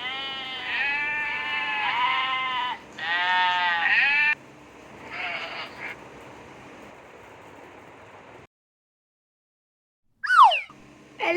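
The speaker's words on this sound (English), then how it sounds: "Sheep." Sheep bleat loudly and close by in a series of wavering calls, three or four in quick succession, then a pause of silence before another short, sharp bleat.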